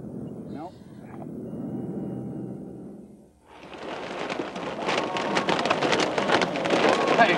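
Heavy rain during a tornado chase, starting as a low muffled rumble and then becoming a loud, dense hiss of drops pelting a vehicle. A few voices are faintly audible under the downpour.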